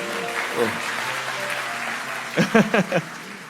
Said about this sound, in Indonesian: Kasih tepuk tangan tuh semuanya.